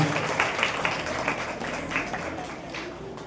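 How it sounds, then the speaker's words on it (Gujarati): Applause for a student at a school admission ceremony, a steady crowd of hands clapping continuously throughout with scattered sharper claps rising above it. "જોરદાર તાળીઓ"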